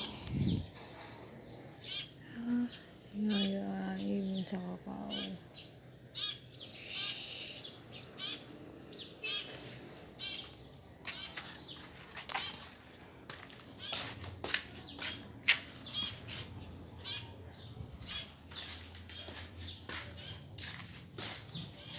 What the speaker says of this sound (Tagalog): Tanging ibon na lang ang maingay.